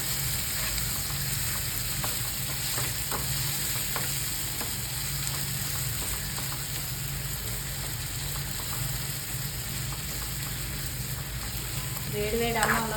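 Onion chili powder fries in a pan with a loud, continuous crackling sizzle and faint stirring scrapes, growing slightly louder near the end.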